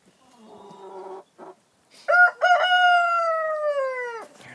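A chicken inside a chicken tractor gives a few soft clucks, then a loud, drawn-out crowing call close by with no other sounds around it.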